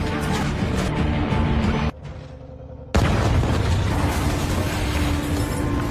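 A loud rumbling scene drops briefly into near quiet, then a sudden heavy boom of a bomb exploding on a boat erupts, followed by a sustained roar of debris and noise.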